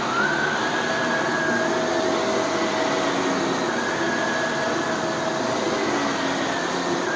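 Shark Powered Lift Away DLX vacuum cleaner, repaired after a motor explosion, running on carpet with a steady loud motor whine and airflow roar, faint pitch shifts as it is pushed, no voices.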